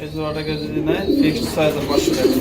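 Racing pigeons coo close by in low, repeated throaty rolls that overlap one another, with a voice talking over the birds.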